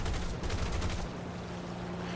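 Aircraft cannon fire in a combat flight video game: a rapid, loud burst of shots lasting about a second, then a steady engine drone carries on alone.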